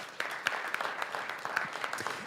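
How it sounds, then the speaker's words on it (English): A crowd at a school board meeting claps steadily, dense applause with scattered sharper claps standing out, filling the room without any voices over it. "Another round of applause for our individuals."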